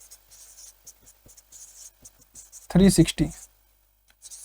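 Pen scratching on paper while angle equations are written out, a run of light, irregular strokes close by, interrupted by a brief burst of a voice before the writing resumes faintly.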